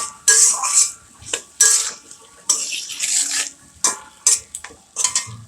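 Chopped garlic and green chilies are stirred in a pan for a chili pickle, heard as repeated bursts of scraping and sizzling with the utensil clinking against the metal, separated by short pauses.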